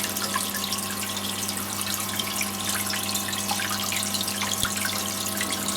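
Tap water runs steadily through a homebrew brewery coil during a shed refit, a constant loud hiss and gurgle with faint drips and no talk.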